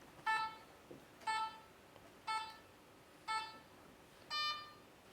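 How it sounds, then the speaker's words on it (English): Five short electronic beeps from a device, evenly spaced about a second apart, clear and moderately loud over a quiet background. "It's beeping."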